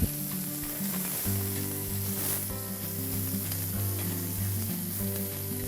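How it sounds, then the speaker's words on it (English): Bacon-wrapped venison steaks frying in a pan over medium-high heat, a close, continuous sizzle with brief thumps and spits as they are turned, over a steady background hum, no talking. "Now when you flip these steaks, you want to make sure you flip it in the rotation that you wrap them in"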